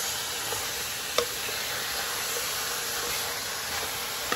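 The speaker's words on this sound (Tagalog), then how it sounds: "I will saute the chicken wings here until it will get brown" Chicken wings sautéing in a pan for chicken tinola give a steady, close sizzle and hiss, with a few sharp utensil clicks on top and no talking.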